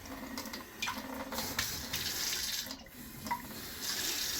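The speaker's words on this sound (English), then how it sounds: "Now let's throw just a little bit of water." Water runs steadily into a blender jar holding a milk shake, a close, continuous gurgling splash like a running tap, lasting several seconds with slight surges.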